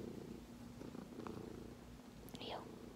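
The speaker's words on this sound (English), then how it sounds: "I love his little purr." A small cat purrs softly and continuously at very low volume, with faint whispery sounds and brief handling noises over it.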